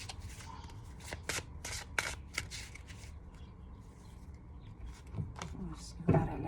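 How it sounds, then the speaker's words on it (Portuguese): Tarot cards being shuffled by hand in a quick run of crisp riffles and soft slaps, fairly close and moderately loud, with brief bursts of speech between the shuffles. "Vamos embaralhar assim."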